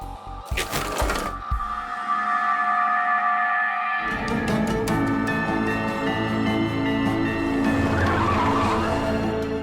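Car tires squeal and skid as the vehicle brakes to a stop in a Hindi crime thriller, a loud sustained screech after a few sharp cracks, followed by a rumbling engine.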